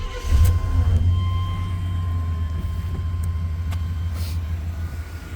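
A 1993 Chevrolet Silverado K1500 Z71 4x4 extended-cab pickup starts with a brief crank and catches. It settles into a steady, loud low idle rumble close by, with a few faint clicks over it and no talking.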